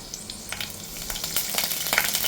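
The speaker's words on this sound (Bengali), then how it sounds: "তেলটা মোটামুটি গরম হয়ে গেছে এরপরে আমি প্রথমে দিয়ে দিলাম এটার মধ্যে দুটো মতো শুকনো লঙ্কা একটু কারি পাতা" Two dried red chillies and a few curry leaves crackle and spit in hot oil, a close, busy sizzle with sharp pops that grows slightly louder over a couple of seconds, with no talking.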